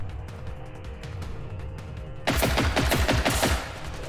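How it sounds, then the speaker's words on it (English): Gunfire in the video game Generation Zero: a quiet, muffled stretch gives way to a loud rapid burst of close shots lasting over a second, then fading. "Oh, he did shoot through the window there."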